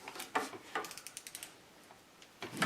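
Manual 1/2 inch PEX expander tool worked on tubing during a laundry hookup install in a mobile home, giving a string of sharp ratcheting clicks and mechanical snaps, close and fairly quiet, with brief pauses between bursts.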